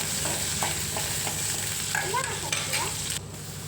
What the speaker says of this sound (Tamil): பூண்டு நல்லா வதக்கி எடுத்துடலாம்